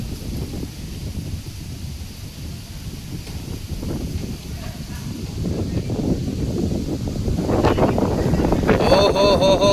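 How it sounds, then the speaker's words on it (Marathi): Wind gusting across an open terrace in Sindhudurg just before the season's first rain, a steady broadband rush that builds louder toward the end, with people talking over it. "वाव यार, का वारा सुटलाय."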